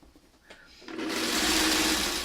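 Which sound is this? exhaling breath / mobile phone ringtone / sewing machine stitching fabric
sewing machine stitching fabric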